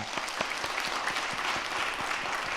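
A church congregation applauding during a Sunday afternoon dedication service for ministry workers, a dense, steady wash of clapping from many hands filling the hall throughout.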